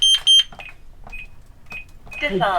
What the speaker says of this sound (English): we only have 60 seconds to turn the alarm off